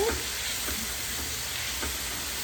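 Papaya salad ingredients tossed and mixed by hand in a bowl, giving a soft, steady wet rustle with a few faint clinks, close and fairly quiet throughout.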